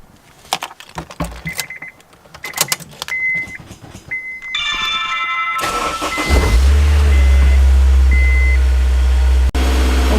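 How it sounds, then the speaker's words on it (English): A Honda S2000 gets a cold start: clicks and short electronic chimes, then the starter cranks and the engine catches, settling into a loud, steady idle up close. "So let's go ahead and give the S2000 a nice cold start."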